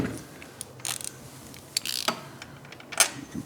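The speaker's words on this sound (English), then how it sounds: "get the wrench on the nut there and loosen it up" A wrench ratchets and clicks while loosening a nut on the exhaust header of a 2024 Triumph motorcycle, giving irregular close metallic ticks and scrapes against a quiet background, with no talk.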